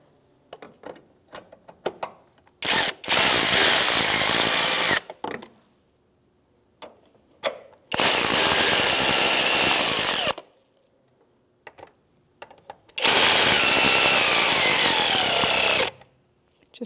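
A power tool with an extension and 10mm socket drives transmission oil pan bolts on a 2011-2016 Hyundai Elantra, three loud buzzing bursts of a few seconds each, separated by quiet clicks and handling noises.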